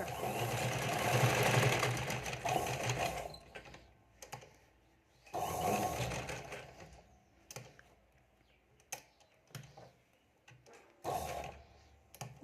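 A sewing machine stitches a size 28 princess-cut front panel in fast, whirring bursts of a few seconds each, separated by quiet pauses with small clicks and fabric handling.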